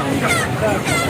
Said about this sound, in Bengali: ব্রয়লার মুরগি আছে এখানে।